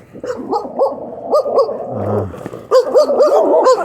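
A dog barks repeatedly at close range, bursts of sharp barks separated by a low growl in the middle, loud and clear with no talking.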